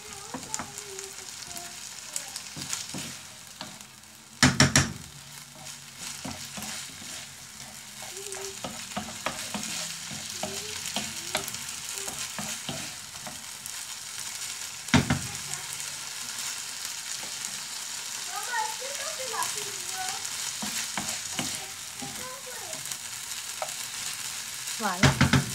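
Chicken and potatoes fry in a pan while being stirred, a continuous close sizzle with repeated scraping and clattering strokes and a few louder knocks, no voices.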